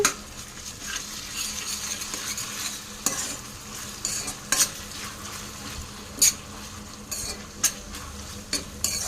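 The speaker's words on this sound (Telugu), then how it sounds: "కొంచెం అల్లం వెల్లుల్లి ముద్ద అయితే తిప్పుకుంటూ ఉండాలి" Ginger garlic paste sizzles in hot oil with onions and curry leaves in a new kadai, with a steady broadband frying hiss and intermittent scrapes and clinks of a spoon stirring against the pan, no talk.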